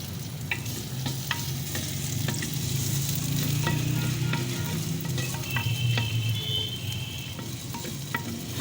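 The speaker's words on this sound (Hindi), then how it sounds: "इसको मैं गोल्डन ब्राउन कर लूँगी इस प्याज को।" Finely chopped onion sizzles steadily in a handi pot, heard up close, with occasional sharp stirring scrapes and clinks over the frying hiss and no talking.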